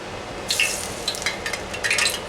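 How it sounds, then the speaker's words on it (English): Water spattered into hot frying oil for mozzarella sticks, giving a burst of crackling sizzle that starts about half a second in and keeps popping in short, close bursts. "Hear that? That helps tell you that your oil is hot."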